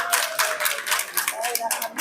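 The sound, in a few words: applause at a birthday celebration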